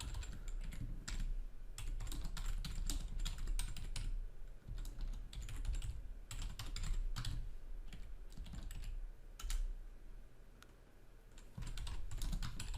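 Computer keyboard typing while entering code, a close and steady clatter of keystrokes with brief pauses between runs, with no talking.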